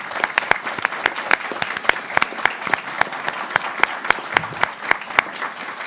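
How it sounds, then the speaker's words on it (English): An audience at a school board work session applauds, with a few loud, close hand claps standing out sharply over a softer, sustained wash of clapping from the room. "I just wondered if we could recognize Ms. Alexander with applause one more time"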